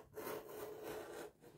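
Scissors cut through fabric for a back collar piece, giving a close, soft rasping snip that runs steadily for about a second, alone in a quiet room.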